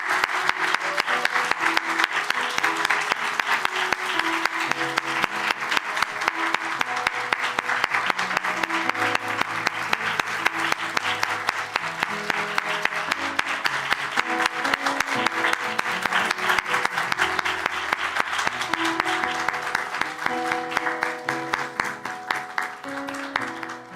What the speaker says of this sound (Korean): 중앙 통로로 걸어 나올 때 격려와 응원의 박수 좀 뜨겁게 부탁드리겠습니다